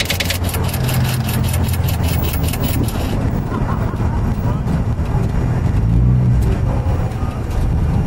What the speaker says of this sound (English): Did you start your car? No, just the AC.